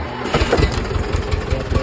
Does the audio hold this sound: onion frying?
no